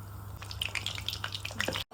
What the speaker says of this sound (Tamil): இப்போ நான் ஃப்ரை பண்ணி எடுக்க போறேன்